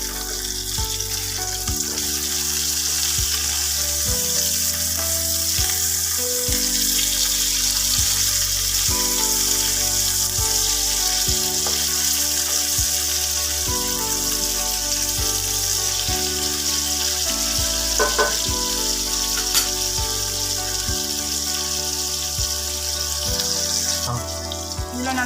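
Fish curry simmering and sizzling in a pan, a steady broadband bubbling hiss running throughout under a layer of background music.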